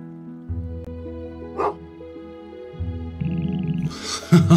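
A cartoonish dog barks in the farming video game Potion Permit, a few short yips over looping game music with chiming tones, fairly close and clear.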